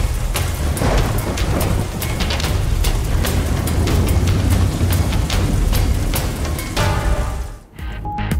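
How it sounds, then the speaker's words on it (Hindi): Stormy rain with thunder in Noshki, Balochistan: dense, loud rain hiss with scattered sharp cracks and low rumbling, which drops out abruptly near the end. "नोशकी में तूफानी बारिश के बाद नदी नालों में तुग़यानी"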